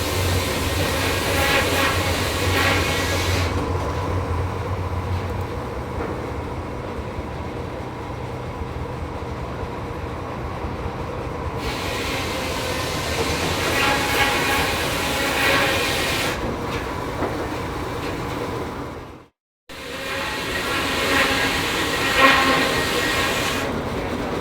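A steam-powered sawmill line shaft turns with pulleys and belts, giving a continuous rumbling mechanical clatter with a steady rhythmic rattle that briefly cuts out near the end.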